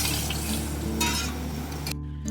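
Hot tadka tempering poured into dal palak, a steady loud sizzle and frying hiss running throughout, with a brief brighter crackle burst midway and a settling tail at the end.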